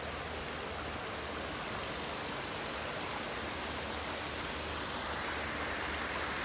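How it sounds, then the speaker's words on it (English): A small waterfall in a water garden gives a steady, close, hissing rush of falling water that stays even throughout, with no other sounds standing out. "Little waterfall."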